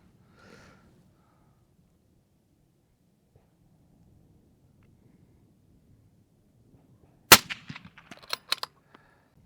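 Rifle shots from a rifle fitted with an S2Delta RSC lightweight chassis at an outdoor ranch: a sharp, loud crack after a long quiet stretch, followed by a cluster of fainter bangs and echoes.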